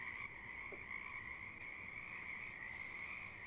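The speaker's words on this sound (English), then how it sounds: "Why are there ominous frog sounds?" Ominous frog croaking loops steadily in the background of a livestream, a constant droning croak chorus that holds at a moderate, even level with no talking.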